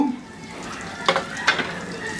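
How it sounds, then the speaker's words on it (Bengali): Cumin seeds and three dried chillies crackle in hot oil in a kadhai, a soft continuous sizzle broken by two brief sharp scraping or stirring sounds, close and without talk. "এখন ওই একই কড়াইয়ে আরেক টেবিল চামচ তেল দিয়ে এর মধ্যে আমি এক চা চামচ জিরা আর তিনটা শুকনা মরিচ একটু ফোড়ন দিব"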